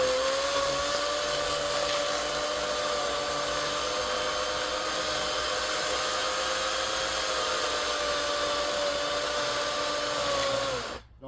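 An electric Kobalt chainsaw cutting into a tree stump, heard as a loud, steady motor whine that holds for about eleven seconds before cutting off abruptly, with no talking.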